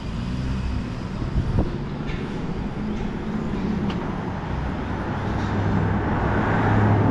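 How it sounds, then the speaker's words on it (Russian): Constant car traffic in the side lanes near Tverskaya street in central Moscow, a dense steady roar of passing vehicles that swells slightly toward the end. "В плане вот шум постоянный, машины вот эти ездят, особенно со стороны Тверской."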